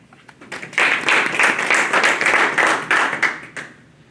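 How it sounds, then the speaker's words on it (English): Applause from a school audience for 2020 graduates at a recognition night: a brief, fairly dense round of clapping that swells quickly, holds for about three seconds and then tapers off, with no talk over it. "In between, we can do a brief round of applause"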